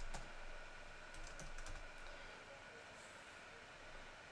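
Someone types a username on a computer keyboard, giving faint scattered key clicks in a quiet room with a low steady background hum.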